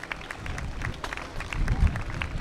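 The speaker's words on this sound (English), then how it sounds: "you can hear the crowd, at least in front of Quay Park and in front of the courthouse, where it's just a continuous applause for the veterans" A crowd applauds veterans along the route of the 2024 Beaver Memorial Day parade: steady, continuous clapping spread across the street, with scattered sharp claps over a low rumble that swells toward the end.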